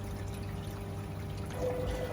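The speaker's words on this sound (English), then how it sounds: "The water is fed through a kalkvasa, a homemade kalkvasa chamber, which then drips into the sump." Water from a homemade kalkwasser chamber drips and trickles into an aquarium sump, a steady soft liquid sound over a low hum.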